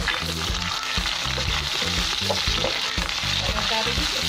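Curry leaves and yellowing onions fry in a pan for a gulai rambutan, giving a loud, continuous sizzle near at hand with stirring scrapes breaking through.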